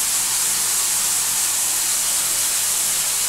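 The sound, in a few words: frying eggplant and shrimp with turmeric and chilli powder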